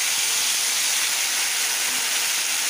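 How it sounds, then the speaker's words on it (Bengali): Dhenki greens dropped into hot oil in a pan where garlic has been fried until reddish, giving a loud, steady hiss of sizzling that fills the whole stretch without letup and with no talking over it. "এখন আমি এই শাকটা দিয়ে দেবো।"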